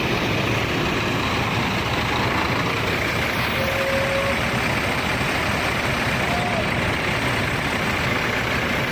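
A large bus rumbles out of a depot, a steady, heavy engine drone filling the scene with a couple of faint brief tones above it, while someone talks intermittently over the noise.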